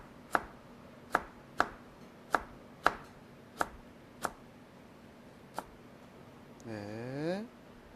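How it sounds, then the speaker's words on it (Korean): A knife julienning sliced deodeok root on a cutting board, with about eight sharp, evenly spaced chops close by, followed by a brief scraping or sweeping sound near the end. "포를 떤 다음에 채를 썰어 주시고요"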